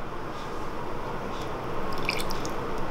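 A mixture of coconut milk and melted margarine pours into cake batter, making a steady wet, squishy gurgle with a few small drips and splashes toward the end, continuous and close, with no talking.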